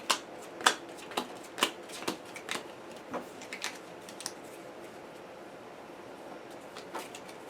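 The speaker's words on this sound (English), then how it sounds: "let's give them a little shuffle anyway" A deck of game cards for the board game Aeons End: Legacy is shuffled by hand, a run of quick, crisp riffling bursts that start louder and grow sparser and fainter, close by and with no talking.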